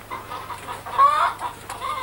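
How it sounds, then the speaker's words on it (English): Battery-farmed chickens clucking in a 1970s poultry production unit, a brief close burst of several hens' clucks over a low steady hum. "Battery chicken production looks efficient, but is it?"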